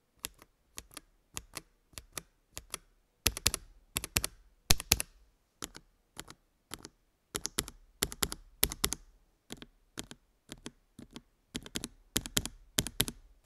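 Typing on a mechanical keyboard fitted with factory hand-lubed Akko CS switches: crisp, close keystroke clacks in short rapid bursts separated by pauses, with no talking.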